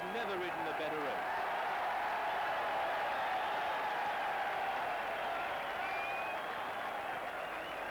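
A racecourse crowd roars steadily as Dancing Brave wins the 1986 Prix de l'Arc de Triomphe, with a continuous wash of cheering and applause and a race commentator talking over it throughout.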